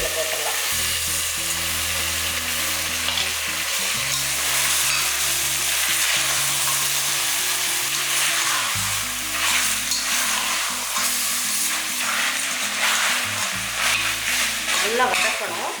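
Goat head meat sautéing in a pan gives a steady, close, loud sizzle that runs the whole time, broken by the scrape and clatter of stirring, over a low droning hum.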